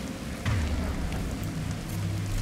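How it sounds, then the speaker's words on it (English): Steady rain hiss in the Mass Effect 2 Legendary Edition abandoned mine level, a continuous wash of falling rain with low rumbling game ambience underneath, no speech. "It's raining."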